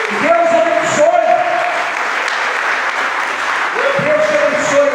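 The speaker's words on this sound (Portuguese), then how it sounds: "Aplauda o nome de Jesus" A church congregation claps steadily as a dense, continuous wash of applause while a voice speaks over it throughout.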